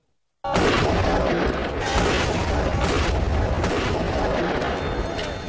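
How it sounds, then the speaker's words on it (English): A staged car explosion set off for a stunt, sounding as one sudden loud blast that cuts in from silence and then roars on as a sustained, broadband rumble with crackling debris for several seconds. "Adam leaps as the car gets blown sky high"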